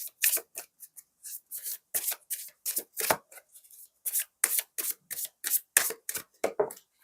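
Tarot cards are shuffled and drawn close up, a run of quick, crisp riffling and sliding bursts separated by short pauses, quiet and with no talking.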